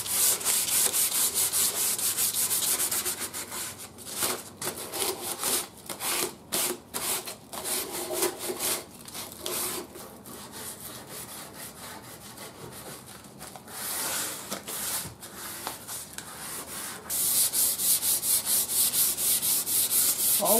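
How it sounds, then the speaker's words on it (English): Sandpaper worked by hand across the finished wooden cabinet of an old Arvin shortwave radio, scuffing the top glaze in quick back-and-forth rasping strokes, close and steady with brief pauses. "All we're doing here is breaking the glaze on the top layer of finish so that the stain will stain it good."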